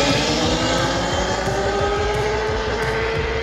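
Motorcycle launched hard at full power setting, a loud continuous engine roar with rising pitch and tyre noise, close and steady throughout with no talk.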